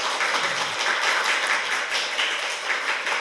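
Studio audience applause on a Korean talk show, a continuous, fairly loud wash of clapping hands lasting a few seconds with no talking.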